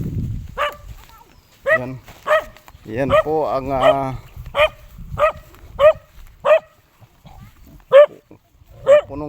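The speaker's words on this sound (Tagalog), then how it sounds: "Sunod ang aso." A dog barks repeatedly in sharp, evenly spaced yaps, close by, while a person speaks briefly near the start on a walk toward the sea.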